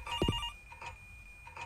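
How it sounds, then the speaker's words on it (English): A telephone in the horror game Paranormal Activity 3 gives a brief electronic ring over a faint steady tone, with a low thud and soft clicks after it. "so the phone rings again, which is weird."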